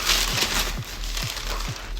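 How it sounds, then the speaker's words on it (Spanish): Paper wrapping peeled off a Blu-ray case of The Substance, giving soft close crinkles and tearing rustles in a steady, even run with no talking. "Al desenvolver la película"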